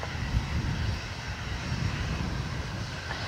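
An airplane cleared for takeoff at Dublin Airport produces a steady, broad engine roar at moderate distance, with no voices over it.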